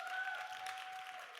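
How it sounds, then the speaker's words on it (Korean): Faint applause from a church gathering, a soft, steady patter of many hands heard at a distance, with a thin tonal hum running underneath. "박수!"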